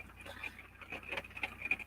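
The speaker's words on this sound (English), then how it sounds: "Y'all hear this rain? I love this rain." Rain patters outside, a faint, steady scatter of light ticking taps against a quiet room background, with no one talking.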